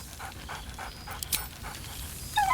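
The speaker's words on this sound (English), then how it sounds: "He whines." A dog whines in a video game, with soft whimpering pulses and panting sounds coming through close up over a low ambient background.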